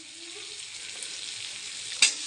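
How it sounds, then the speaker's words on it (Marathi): Drumstick pods sautéing straight in a hot pan, a steady close sizzle that holds throughout, with a brief sharper clatter near the end. "मी ना असं डायरेक्टच परतायला टाकीत असते"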